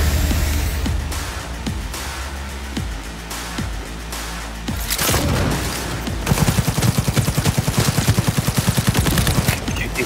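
Gunfire in Cyberpunk 2077: scattered single shots at first, then a loud, rapid automatic burst firing in steady rhythm for several seconds, close and dominant with no talk.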